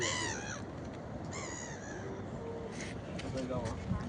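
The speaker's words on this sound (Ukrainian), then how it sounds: "Чайки." Seagulls call over a city river in Prague's Malá Strana, several harsh cries at moderate distance over steady outdoor background noise.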